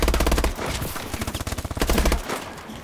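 Rapid automatic gunfire from a Call of Duty Advanced Warfare free-for-all multiplayer match, loud bursts of closely spaced shots that run almost continuously with a brief lull midway.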